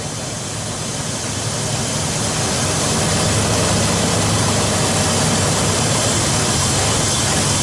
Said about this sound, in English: So when I cover that airline going into the throttle, it actually smooths out the idle a lot.